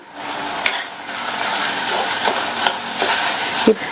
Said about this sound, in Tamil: நல்லா வதக்கி விட్டுருங்க. நம்ம சேர்த்துருக்கிற இந்த தக்காளி நல்லா வதங்கி மசிஞ்சு வரட்டும்.